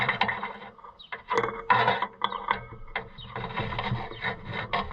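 A wrench tightening a bolt on the motor mount of a grain bin, close metallic ratcheting and scraping in uneven bursts, fairly loud with no talking.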